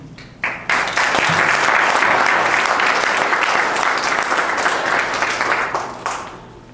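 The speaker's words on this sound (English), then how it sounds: "So let's just give a nice round of applause to everyone who contributed." Sustained audience applause at a small-business information forum in Penticton, a dense wash of many hands clapping that swells quickly, holds steady and loud for several seconds, then thins out toward the end.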